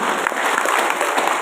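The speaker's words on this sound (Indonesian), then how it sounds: "tepuk tangan untuk semua" An audience applauds at a teacher workshop session, a dense, steady wash of many hands clapping together that fills the whole moment at close range.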